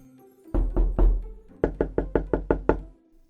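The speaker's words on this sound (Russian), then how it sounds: "Однажды в дверь стучит сосед." Knuckles knocking on a door in two bursts, first three slower heavy knocks and then a rapid run of seven even raps, close and clear with nothing else heard.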